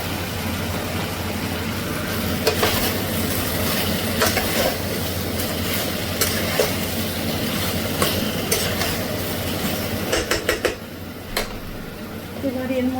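Mixed vegetables tipped into a lightly fried spice paste in a home kitchen pan, giving a steady, close sizzle with stirring scrapes and clatters throughout, while a voice talks over it.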